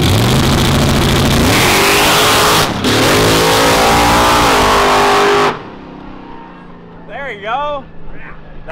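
A 1000hp drag car roars at full throttle through a wheelie run, loud and sustained with a brief gear-change dip, then cuts off abruptly, leaving fainter engine noise and a short burst of voices.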